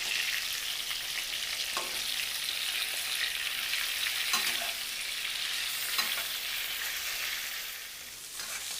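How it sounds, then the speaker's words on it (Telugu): Stuffed eggplants frying in oil for an Andhra-style curry, a steady close hissing sizzle with occasional soft pops and clicks, continuous and moderately quiet, with no talk. "ఇలా ఒక 5 నిమిషాలు ఆయిల్లో వేయించుకున్నామంటే వంకాయ చాలా టేస్ట్గా ఉంటుంది"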